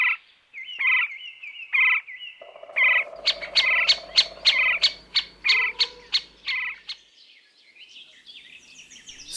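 A woodpecker gives a series of sharp, high calls, several spaced notes followed by a quicker rhythmic burst of repeated calls, close and clear, with a faint low rumble underneath partway through.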